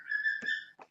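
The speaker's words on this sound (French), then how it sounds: "Si vous l'entendez siffler une chanson, c'est moi qui lui ai appris." A pet bird whistles a learned tune: a sustained, clear, bright note with overtones, broken by a soft chirp and ending in a quick short call, close and alone.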